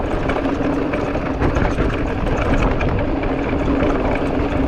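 A Skydio 2 action-sports drone flies nearby, about 60 feet away, making a steady, loud, broadband whirring buzz that holds for several seconds with no talk.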